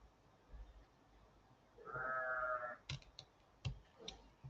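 A sheep bleats once in a drawn-out, wavering cry of about a second in a quiet indoor setting, followed by a few sharp clicks and taps nearby.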